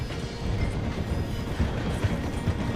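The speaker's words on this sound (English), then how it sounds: "The train is slowing down to go through the station." In a Red Dead Redemption 2 scene, a train rolls through a station as it slows, with a steady low rumble and rhythmic clatter of wheels on rails, loud and continuous, with no speech.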